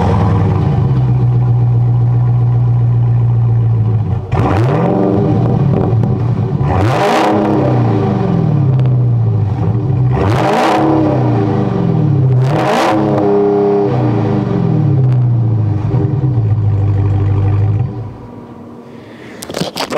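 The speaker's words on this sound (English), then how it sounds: "these large tailpipes that sound really good" A Dodge Charger Hellcat burbles at idle through large tailpipes, then blips its engine in four loud revs that each rise and fall back, recorded up close before the rumble cuts off near the end.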